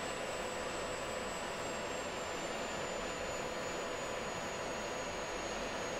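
An F-16 jet engine in the Falcon BMS flight simulator throttles back, a steady dense roar with a thin high whine gradually dropping in pitch, continuous and even throughout.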